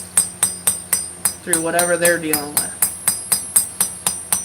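Steady metallic hammer taps while a 30 lb sledgehammer is engraved, struck at an even, quick rhythm, close and sharp, continuing under a brief stretch of talk in the middle.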